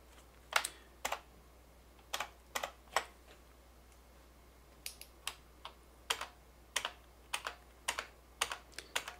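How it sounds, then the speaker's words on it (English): Keys on a computer keyboard are tapped in short irregular bursts of crisp clicks, heard close and quiet against a low background hum with no voices. "I'm typing capital A's"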